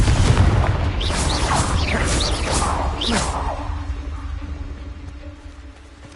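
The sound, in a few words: Confringo blasting spell explosion from wizarding video game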